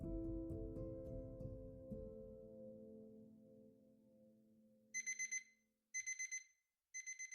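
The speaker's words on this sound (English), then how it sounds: "after Laura had gone to the movies with Dan, she woke up to the loud beep of her alarm clock" An alarm clock beeps loudly in quick bursts of four sharp electronic tones, repeating three times after a fading, ringing musical tone dies away into silence.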